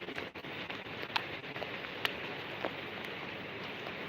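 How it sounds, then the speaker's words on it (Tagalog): Steady rain falling outdoors, a soft, even hiss with a few faint sharper drop ticks scattered through it. "Nag-start na yung ulan."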